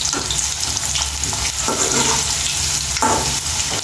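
Bitter gourd slices fry in oil in a pan with a steady, loud sizzle, while intermittent stirring scrapes and clatters through it.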